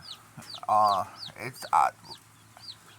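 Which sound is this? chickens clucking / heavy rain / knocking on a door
chickens clucking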